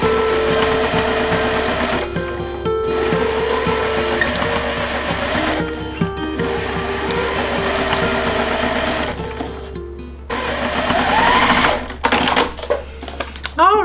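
A sewing machine runs in long rapid bursts while stitching a star quilt block, its mechanical whir and clatter pausing between runs, with a louder, choppier stretch near the end.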